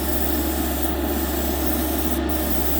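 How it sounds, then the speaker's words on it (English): A Gaahleri Mobius 0.3mm airbrush spraying metallic paint gives a steady, close hiss of air and atomized paint. The rushing sound holds evenly for the whole stretch with no break. "So I'm really impressed on the spray they put down"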